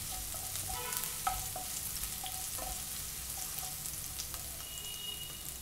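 Crushed garlic sizzles and fries steadily in hot oil for a flaxseed and broad bean (goruchikkudu) fry, with occasional stirring clinks and pops over a continuous close sizzle; no talking.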